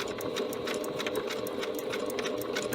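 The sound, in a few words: sewing machine stitching bias tape for a face mask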